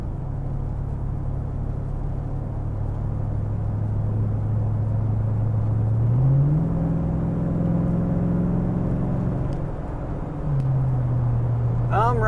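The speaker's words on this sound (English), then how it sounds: "I just slowly started giving it more and more throttle until it downshifted" A Corvette engine drones steadily under increasing throttle, its pitch climbing gradually before dropping sharply at a downshift, then settling into a lower hum, heard loud and close from inside the car.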